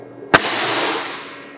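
A single sharp crack from a Nitro X air rifle firing a Promax pellet during a chronograph velocity test, loud and close, followed by a brief fading ring-out with no talk.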